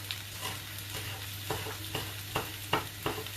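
Shallots frying in a pan with sage, a steady hiss of frying and a few clear stirring scrapes on the pan, near and with no talk.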